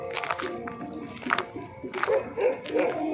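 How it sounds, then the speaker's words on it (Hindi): Dogs barking at night beside a village pond, several short barks and yips scattered across the moment at moderate distance over a noisy outdoor background, with someone talking at times. "भाई कुत्ते भौंक रहे हैं।"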